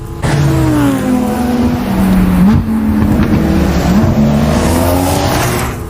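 A Lamborghini 5.2 V10 engine accelerates hard during an anime mountain race, a loud, close, continuous roar whose pitch climbs and drops with gear changes, with no talk over it.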